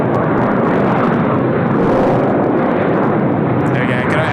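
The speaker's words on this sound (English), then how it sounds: "Should make a bit of noise, the China East." A China Eastern airliner's engines roaring at Incheon airport, a loud, continuous broadband rumble that holds steady throughout, with a faint higher whine creeping in near the end.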